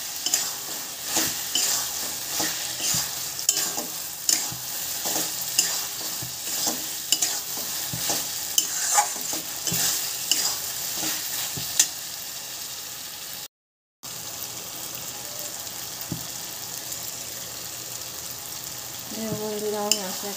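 Spice masala sautéed in a pan, with a constant sizzle and repeated rhythmic spatula scrapes and knocks, broken by a brief silent gap before the frying resumes.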